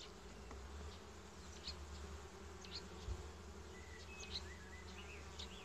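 Caucasian honey bees buzz at an open hive in spring, a steady, dense, low hum throughout with occasional individual bees droning closer, fairly quiet overall.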